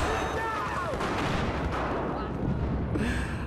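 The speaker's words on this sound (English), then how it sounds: "grenade!" A grenade blast amid combat in the video game Battlefield 4, a dense, rumbling wash of explosions and gunfire that stays loud throughout, with a brief burst of noise near the end.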